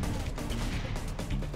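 A rocket launcher blast in the first-person shooter GoldenEye Source, a dense, loud burst of explosive noise with sharp thumping peaks that fills the whole short moment.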